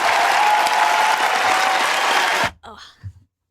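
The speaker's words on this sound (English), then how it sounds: "You got a round of applause" Round of applause sound effect, a dense, steady burst of clapping that stops abruptly, followed by faint voices.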